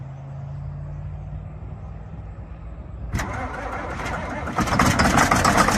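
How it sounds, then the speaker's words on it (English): A 1990 John Deere 4955 tractor that has been sitting cranks and catches, the starter grinding into a rough, rising engine roar that builds louder near the end. "let's give it a whirl, see if she'll start up"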